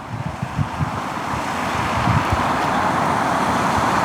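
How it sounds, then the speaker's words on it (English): A steady breeze roars across the microphone beside the water while fishing on a windy day. Low gusty rumble and broad hiss fill the scene continuously, with a few faint knocks early on. "especially on a windy day like it is today. It's a bit breezy."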